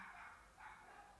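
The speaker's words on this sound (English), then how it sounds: "By the way, can you hear that dog?" A dog barks from outside an Airbnb, heard indoors as two muffled barks in quick succession, faint and distant.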